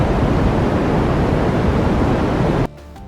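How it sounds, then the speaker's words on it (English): A sonification of the cosmic microwave background: a steady, dense hiss like broadband static fills the clip, loud and unchanging, then cuts off abruptly near the end. "This is the cosmic microwave background."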